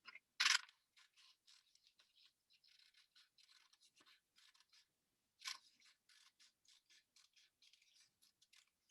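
Scissors snip around a paper circle for a sun suncatcher craft, making a steady run of small, quiet cuts with a couple of sharper, louder snips near the start and middle.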